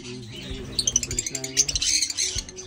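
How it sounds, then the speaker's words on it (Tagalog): Lovebird in an aviary giving rapid, sharp chirps and squawks in a quick pattering series, close and fairly clear, with faint speech-like sounds underneath. "Lovebird yun."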